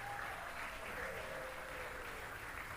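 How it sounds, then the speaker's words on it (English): An audience in a synagogue's main sanctuary applauds during a Megillah reading. The clapping is a steady, continuous patter that sounds faint and somewhat distant. "Let's give them a big round of applause."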